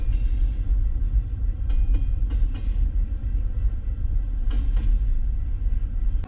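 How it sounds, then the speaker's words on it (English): A very long freight train rolls steadily past close by in the Canadian Rockies near Mount Robson, a deep continuous rumble with occasional wheel clicks and squeals, no voices. "one of the longest trains I think I've ever seen in my life"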